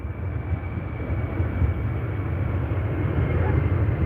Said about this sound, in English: Another aircraft taking off. Glasgow Airport.